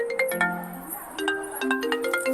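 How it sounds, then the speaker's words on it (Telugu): A phone ringtone plays a repeating electronic melody in a home, steady tones stepping up and down across the clip, fairly loud with no talk over it. "అనుకు ఫోన్ వస్తుంది కదా."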